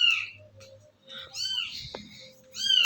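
Household cats meowing at close range, several drawn-out cries in a row with short gaps between them.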